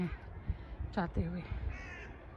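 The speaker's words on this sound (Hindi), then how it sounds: "यहाँ पे कौवे भी आपको नज़र आ रहे" Crows caw in short harsh bursts, a couple of loud calls close by in an outdoor setting in Gaza, with someone speaking over and around them and steady background noise.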